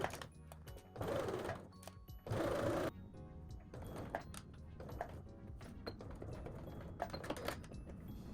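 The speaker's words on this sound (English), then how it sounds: "I'm going to take this over to my machine, and I'm going to start to stitch in the ditch right here" A sewing machine stitches in the ditch along a V-neckline with bias tape, running in short close bursts with pauses between them.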